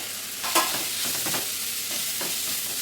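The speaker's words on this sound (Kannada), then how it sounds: "ನಾವು ಈರುಳ್ಳಿ ಕಟ್ ಮಾಡ್ಕೊಂಡಿದ್ವಲ್ಲ ಚಿಕ್ಕದಾಗಿ, ಅದನ್ನು ಸೇರ್ಸೋಣ" Finely chopped onions fry in hot tempering oil as a spoon stirs them, a soft sizzle broken by scraping stir strokes, close and moderately quiet.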